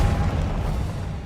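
The Confringo explosive spell goes off in Hogwarts Legacy, a loud deep boom with a rumbling burst that fades across the short moment.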